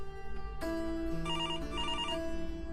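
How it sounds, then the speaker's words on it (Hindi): A telephone bell ringing in a home, its electronic trill starting abruptly and repeating in bright bursts, fairly near and alone without speech. "आप फोन अटेंड कर लीजिए"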